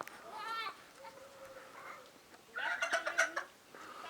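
Chickens in a henhouse cluck in short nasal bursts, several calls overlapping, moderately close, with a quieter stretch in between.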